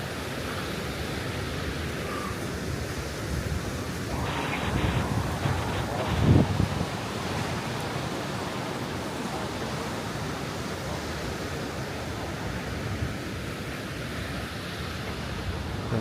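Ocean waves break on the shore at Los Cristianos, a steady wash of surf close by with some wind noise and a brief louder swell partway through.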